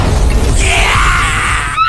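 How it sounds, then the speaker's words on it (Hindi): A cartoon firecracker blowing up inside a piece of wood gives a loud, sustained roaring blast with crashing noise, filling the whole short stretch before cutting off abruptly. "सुतली में आग लगाते ही दूसरी लकड़ी में धमाका हो जाता है।"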